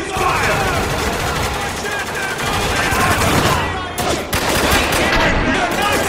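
Rapid automatic gunfire in Spec Ops: The Line during a firefight with refugees, loud and continuous bursts of shots crackling for several seconds with a brief dip midway and shouted combat voices mixed in.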